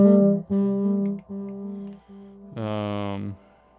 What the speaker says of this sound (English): Just basic delay.